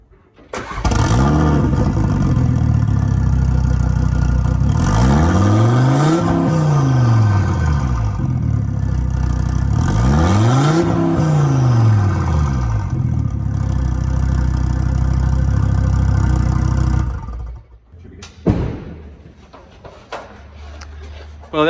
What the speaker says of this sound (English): that was a little rev without the cats